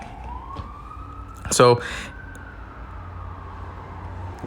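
An emergency vehicle siren on a street near a hospital wails faintly in the distance, its tone slowly rising and falling, while a voice says a brief word midway.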